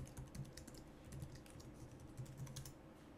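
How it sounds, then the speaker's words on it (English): Keys tapped on a computer keyboard while entering an admin password during an NVIDIA Web Driver install on a Hackintosh running Sierra on an X99 system: quiet, steady clicking in uneven bursts, close up, with no talking. "Enter your admin password."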